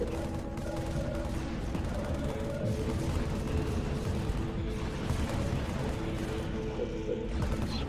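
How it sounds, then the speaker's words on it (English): Continuous battlefield gunfire rattles through a Halo Wars match, overlapping rifle bursts and distant heavy shots forming a dense, unbroken racket at moderate volume. "what the hell is all this gunfire I'm hearing?"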